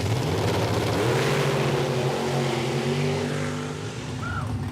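Drag racing cars launching hard off the starting line at a strip, a loud, sustained engine roar rising in pitch, very close with no barrier.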